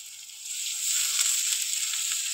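Five-spice, onion, ginger and garlic sizzle steadily in hot oil for a duck egg and new potato curry, a continuous close bright hiss that swells slightly midway, with no talking.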